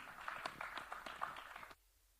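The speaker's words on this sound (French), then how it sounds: "Bah, vous aussi, vous pouvez l'applaudir." A small audience claps for a local elected official at a talk on grassland and pastoral farming, a brief, faint patter of hands from a few people that stops abruptly.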